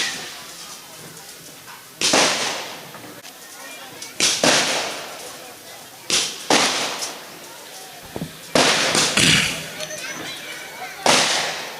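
At a temple anniversary festival, firecrackers burst in sharp loud bangs, about six separate blasts spaced a couple of seconds apart, with a crowd murmuring and a voice talking between them.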